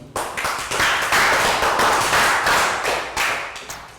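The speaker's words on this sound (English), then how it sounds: "Round of applause for Pakbong" Children in a Year 3 maths class give Pakbong a round of applause, a close, uneven burst of clapping that swells in several surges and fades toward the end, with no talking over it.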